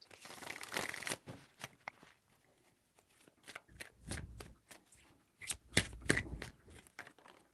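Tarot cards being shuffled by hand in a few distinct bursts, crisp riffling and papery slaps close up and fairly quiet, separated by short pauses.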